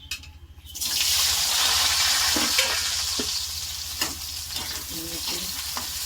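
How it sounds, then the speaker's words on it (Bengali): Onions sizzling in hot oil for a Bengali prawn and potato curry, a steady loud fry that swells after a quiet start, with occasional stirring clicks and no talking. "তেলটা একটু গরম হবে, তো আমি পেঁয়াজ দিয়ে দেবো"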